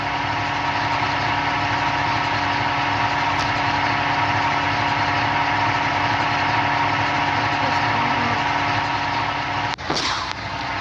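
A jeep engine idles steadily in the driving game Indian Vehicle Simulator 3D, giving a continuous loud, even hum with a faint click near the start and a brief disturbance near the end.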